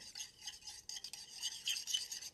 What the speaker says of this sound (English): So I put them in the same container here, the milk and the egg. Gonna just mix that around a little.